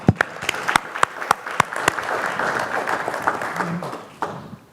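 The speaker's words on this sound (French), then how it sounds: "Vous entendrez maintenant Président Montieu après vos applaudissements nourris." An audience at the opening session of a conference applauds: a few sharp, separate claps build into dense, sustained clapping that fades out toward the end, heard from within the hall.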